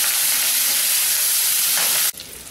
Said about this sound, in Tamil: இப்போ கத்திரிக்காயும் சேர்த்து நம்ம வதக்க போகிறோம்.